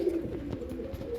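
A female kalanch pigeon nesting on eggs coos softly and continuously up close, a low rolling murmur with no talk.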